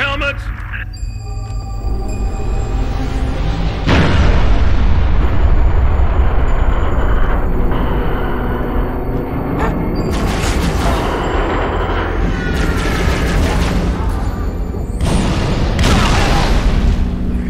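Artillery final protective fire explodes in Halo: Reach as repeated loud, deep booms and blasts. The bursts roll over a continuous battlefield din while voices talk over the radio.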